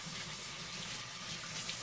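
A kitchen tap runs steadily as salmon is rinsed beneath it, a continuous close hiss of flowing water with no talking.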